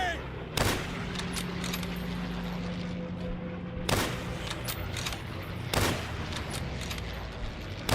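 Three loud, widely spaced gunshots in The Da Vinci Code on PS2, each a sharp crack over a continuous low background drone, with no talking.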